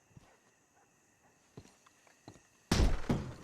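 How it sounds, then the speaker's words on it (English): A heavy door kicked in during a shootout at a house in the Red Dead Redemption 2 video game: faint scattered thuds and steps, then one loud crashing impact with a clattering tail. "Now kick that damn door"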